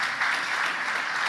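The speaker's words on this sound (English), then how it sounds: "Give yourselves another round of applause, guys." A demo day audience claps steadily and loudly for a second or so, a dense, continuous patter of applause with no pauses.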